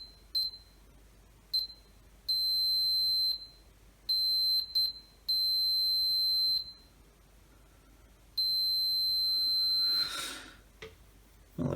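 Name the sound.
multimeter continuity test beep on LED flood light cable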